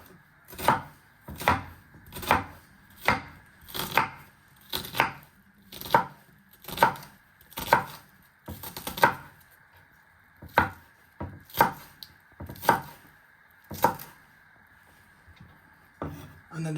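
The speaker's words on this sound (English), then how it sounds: "And then finally slice it into little pieces." A knife chops an onion on a cutting board in a kitchen, with crisp, close thuds falling in a loose, steady rhythm of about one or two per second and no voices heard.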